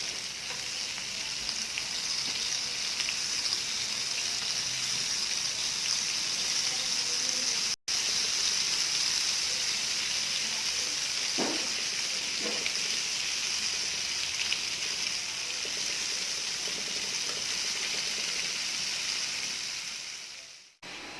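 Fish fillets for sweet and sour escabeche fry steadily in hot oil, giving a loud, continuous broadband sizzle with a few brief clinks partway through and a short break near the end.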